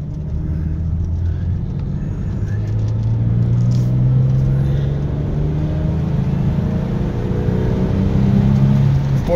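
Car engine pulling steadily in third gear after a slow shift, low rumbling drone with rising harmonic tones as revs climb, continuous and close throughout with no talk.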